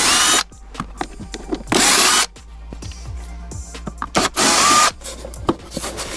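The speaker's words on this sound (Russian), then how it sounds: "Я вот откручу только три болтика." A power drill unscrews small bolts from a car glove box during a homemade camper build, heard as several short bursts of close, loud whirring, with gaps of handling and rustling noise between them.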